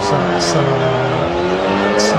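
Rally car on a special stage of the Rallye des Grands Fonds, drifting through a slide and then re-accelerating, loud and close, with the engine note climbing steadily while the car holds a sustained howl.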